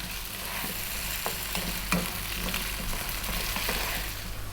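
Potatoes fry in mustard oil for a chicken potato coconut curry, making a dense, continuous sizzle at close range, with faint stirring knocks now and then and no talk.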